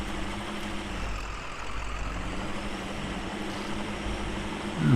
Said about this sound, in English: Hill's starting to... yeah, it's a bit muddy. The tyres are digging in.